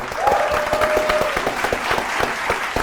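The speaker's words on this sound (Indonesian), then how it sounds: "tepuk tangan dulu untuk kedua tim" Audience applause for two quiz-show teams, a dense steady clapping from a crowd that fills the whole stretch at even loudness, with a brief voice tone near the start.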